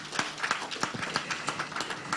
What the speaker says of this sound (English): Yeah, please clap for Dr.